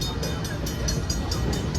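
A train rolls steadily along the tracks, a continuous broadband rumble with a faint regular clatter, heard up close from on board with no talk.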